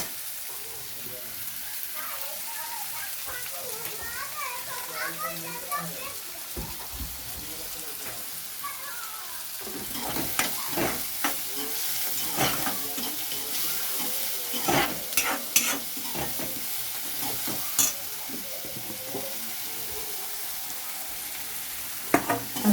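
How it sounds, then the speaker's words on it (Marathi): Onions fry in a pan for kanda poha, a soft sizzle at first that turns louder with repeated spatula scrapes and clicks. "आता कांदा थोडासा हलकासा लाल होईपर्यंत परतून द्यायचा"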